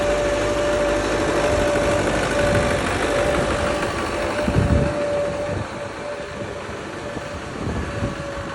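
A steady 2010 MTZ 892.1 tractor engine runs close by, droning evenly with a faint high whine, easing slightly in loudness partway through.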